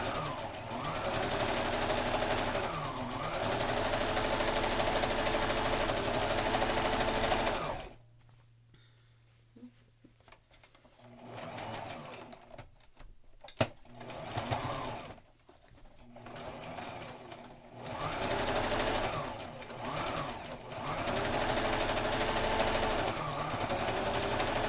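A sewing machine topstitches the lining and front of a fabric mask cover, whirring loudly up close in two long runs with slight speed changes, separated by a quiet pause with a sharp click.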